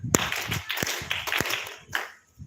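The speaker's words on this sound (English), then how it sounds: "can everybody clap 3 times?" A satsang audience claps together on request, a few sharp collective claps standing out over a scattered patter of handclaps and faint room murmur, fairly close and moderately loud.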